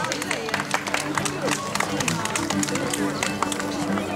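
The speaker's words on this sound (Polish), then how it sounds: "Brawa!" Outdoor crowd at a knights' tournament in Golub-Dobrzyń clapping steadily, a dense wash of applause with scattered louder claps and background chatter, sustained throughout.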